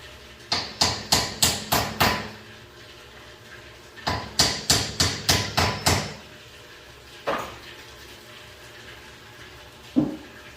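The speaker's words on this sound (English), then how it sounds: "let me hammer these nails down" Two quick bursts of about six sharp hammer blows each driving nails, followed by a couple of isolated strikes, close by and ringing slightly.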